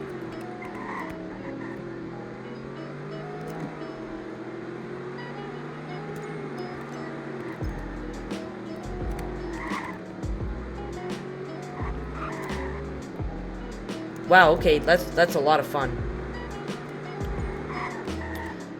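A sports car slides around a corner, its engine droning steadily before a short burst of tire squeal and scrabbling near the end, with a voice speaking briefly.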